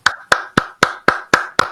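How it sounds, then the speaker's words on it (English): A round of applause for panelists in a leadership discussion comes as seven crisp, evenly timed hand claps from a single nearby clapper, each sharp strike fading quickly before the next. "Please would you join me in giving them a round of applause."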